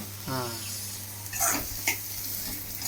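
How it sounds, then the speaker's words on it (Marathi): Cluster beans fry in oil in a pan with a steady, moderate sizzling hiss, broken by a few stirring scrapes and clicks and a brief voice fragment near the start. "गवारी भाजून घ्यायची आपण तेलावरती."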